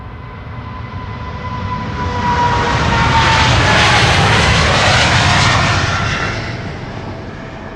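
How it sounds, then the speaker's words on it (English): A KLM Asia Boeing 777 airliner bound for San Francisco roars past at Schiphol, its engine noise swelling from a distant rumble to a loud close peak and then fading. "that's Bravo Quebec Mike, 19-year-old airplane, first flight March 2006, KLM Asia. Flying to San Francisco"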